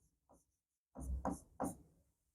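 Pen writing on paper, a short stroke followed by three quick, close scratching strokes in a quiet room.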